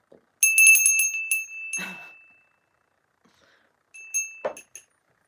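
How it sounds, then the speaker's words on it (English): A bell is struck twice, each ring bright and metallic with a lingering shimmer, separated by a quiet pause; a soft rustle follows the first strike, and no one speaks. "Should we ring a bell?"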